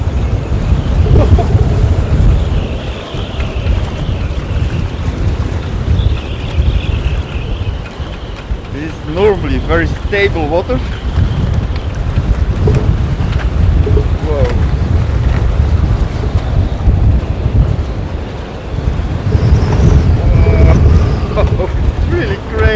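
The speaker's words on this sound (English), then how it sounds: "serious wind." Strong wind of around 45 to 50 knots blasts across a sailboat, a loud, constant low roar that buffets the microphone, with waves churning and people talking over it.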